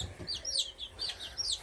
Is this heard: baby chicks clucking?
yes